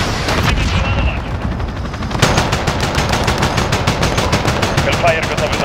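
Rapid automatic gunfire from a military video game raking enemy infantry, a loud, dense stream of evenly spaced shots that grows more sharply rhythmic partway through.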